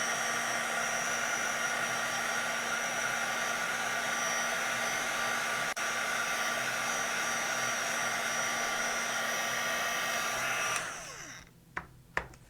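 A heat gun blows steadily on texture paste topped with embossing powder, a loud continuous whirring roar that cuts off near the end, followed by a few faint clicks and knocks.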